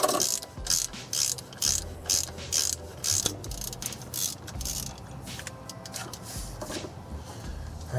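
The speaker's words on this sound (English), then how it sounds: "you're going to want to take out your alternator. You don't want to hold it as soon as this bolt goes" A hand ratchet loosens the alternator bolt on a GMC 350 engine during a tear-down, clicking in quick rhythmic bursts of pawl ticks with short pauses between strokes, close up with no talking.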